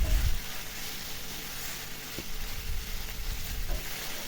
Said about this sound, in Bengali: এখন মাছটা ভালো করে ভেজে নিতেছি আমি।